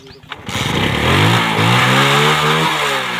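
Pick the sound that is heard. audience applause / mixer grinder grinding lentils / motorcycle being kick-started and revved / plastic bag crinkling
motorcycle being kick-started and revved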